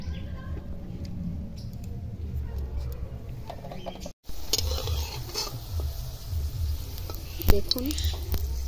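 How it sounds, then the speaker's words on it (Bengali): Papad stuffed with paneer and potato fries over a very low flame, giving a steady close sizzle with faint stirring and scraping; one brief gap breaks the sound and there is no talk. "পাঁপড়ে পুর ভরা পনির আলু দিয়ে ওটা ভেজেছিলাম"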